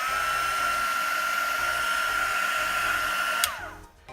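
A small plug-in embossing heat tool blows hot air with a steady, noisy whine and rushing hiss, close and continuous, before switching off near the end and leaving a brief quiet tail.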